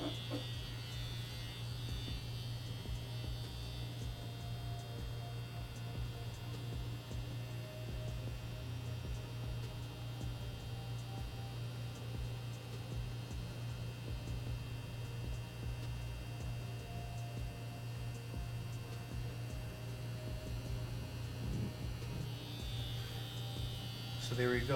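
A tattoo machine fitted with a small needle configuration hums steadily while lining skin, a constant low electric buzz that stays even and unbroken throughout.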